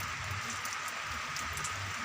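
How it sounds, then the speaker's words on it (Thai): Rain falls on a tiled house roof during a heavy downpour, a soft, even hiss of many fine drops pattering steadily and fairly quietly with no voices. "ฝนตกกระเบื้องบรรยากาศ"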